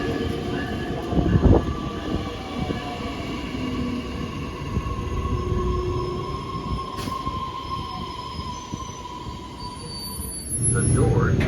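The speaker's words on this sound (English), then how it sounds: "Almost as soon as we got to 59th Street Station, the celebratory electric train showed up." A Metra electric holiday train, its cars decorated with different themes, rolls into 59th Street Station in Hyde Park, with steady rumbling wheels and rail noise, a brief louder clank early on, and rising noise near the end.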